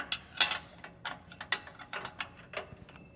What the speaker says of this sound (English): Let's go ahead and grab our torque wrench and get the top one torqued down